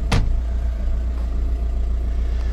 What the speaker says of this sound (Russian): Так его и трусит этот мотор.